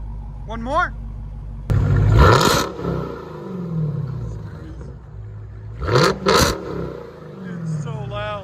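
A Dodge Challenger SRT Hellcat fitted with Black Widow exhaust barks through several loud revs: one long roaring blip early, then a quick double rev later, each settling back into a deep rumbling idle, with a few small throttle blips in between.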